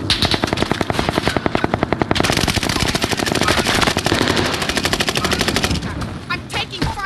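Rapid machine-gun fire from Warzone Pacific on the Caldera map, a loud close stream of evenly spaced shots that continues for several seconds before thinning into scattered bursts.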